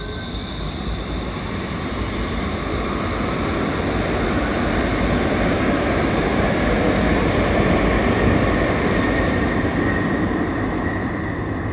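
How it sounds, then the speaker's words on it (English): A Bombardier light rail train rumbles steadily as it pulls away, a continuous rolling roar with a faint high whine, fairly close. "We're just waiting for the train to depart."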